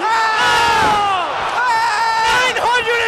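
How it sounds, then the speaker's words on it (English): A wrestling crowd at the PWS Supercard 2012 show roars and cheers wildly after a moonsault, a loud, sustained wall of shouting voices with high yells rising above the din throughout. "The crowd is going wild."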